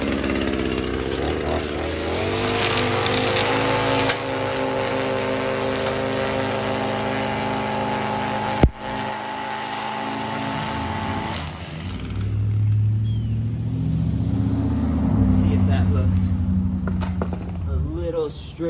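A weed whacker edging a bi-weekly lawn along a concrete edge, its whining string trimmer engine running loud and steady and close, then dropping lower and rougher near the end, with someone talking over it.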